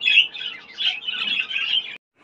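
Show budgie parrots chirp close by in a quick, busy stream of high twittering and warbling notes that runs almost continuously before stopping abruptly.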